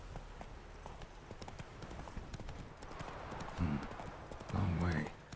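Roach the horse galloping in The Witcher 3, with steady clip-clop hoofbeats running throughout and a brief whinny-like burst near the end.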